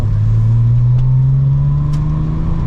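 Loud, steady engine roar from a 1997 air-cooled Porsche held at full throttle in second gear, the pitch climbing smoothly throughout, heard from inside the cabin with no talking.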